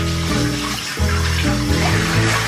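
Water runs steadily and loudly from a tap, splashing as a face is rinsed after skincare, with a brief dip in the flow partway through.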